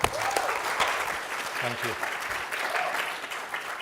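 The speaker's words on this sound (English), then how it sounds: "Please, a round of applause." A live audience applauds a speaker being introduced at a Black graduate careers event, dense clapping filling the room while a voice speaks briefly over it.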